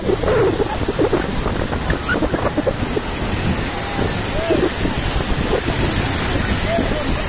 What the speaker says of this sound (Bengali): ঢেউ ঢেউ, ভাষায় নিয়ে গেছে। আরেকটা আসতেছে